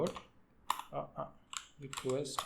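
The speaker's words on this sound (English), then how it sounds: "It's just typing stuff like repo URL" Quick keystrokes on a computer keyboard while coding, in short irregular bursts of clicks, close and fairly faint, mixed with brief speech.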